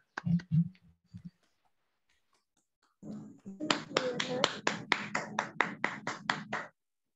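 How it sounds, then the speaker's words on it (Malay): Applause for a general manager at a company team gathering: a few scattered claps, then after a pause a group of people clapping in an uneven rhythm for several seconds, with talk faintly beneath. "Bagi tepukan yang gemuruh kepada kita punya GM"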